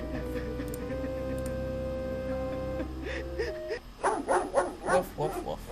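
A dog barks in the Kings Quest VII video game, a run of quick, loud yapping barks near the end after a steady droning music bed with tones, no talk over it.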